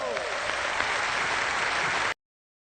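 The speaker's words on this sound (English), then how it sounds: "they were like clapping so fucking hard for him" Studio audience applauding hard in a played clip about faith healer Peter Popoff, a dense steady wash of clapping that runs loud and unbroken for about two seconds, then cuts off abruptly into silence.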